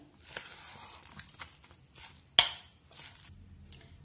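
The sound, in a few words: stirring vada mixture with salt and lemon juice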